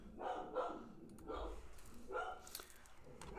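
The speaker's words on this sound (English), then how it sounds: "He barks at everything." An indoor dog barks repeatedly, a handful of close, loud barks spaced through a few seconds, standing alone with no talking over them.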